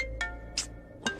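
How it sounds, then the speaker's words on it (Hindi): A short electronic ringtone chimes in three quick bright bursts over a low hum, fairly quiet. "अलार्म बज रहा है, उठिए"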